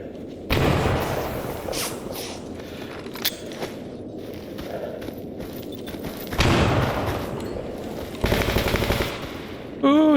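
Automatic gunfire from enemy weapons in the Stalker Anthology video game crackles in bursts, with heavy volleys near the start, around six seconds and eight to ten seconds, and scattered footsteps and effects between them.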